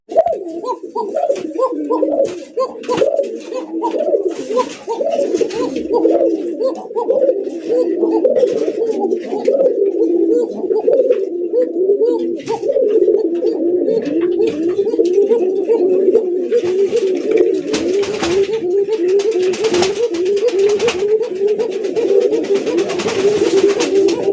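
Bashiraj Koka pigeons, a breeding pair, coo continuously up close in overlapping, rolling low calls, with faint rustling and some soft background voices.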